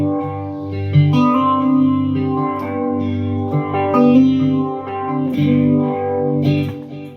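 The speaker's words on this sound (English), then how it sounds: "maybe a Univibe. Let's try that." Electric guitar played through a Univibe modulation effect, sounding a steady run of sustained, chorus-like notes and chords with a swirling, slightly overdriven tone for about seven seconds, with no talking.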